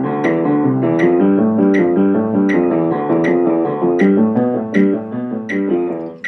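Piano playing Hanon exercise number 21 at a moderate practice tempo, a steady stream of even, repeating scalar note patterns with regular accented beats, close and clear, no talking.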